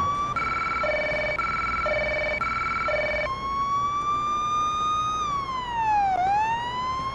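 A police car siren in a police simulator game blares loudly, first as a rapid two-tone alternating pattern, then switching to a long rising and falling wail over steady background noise.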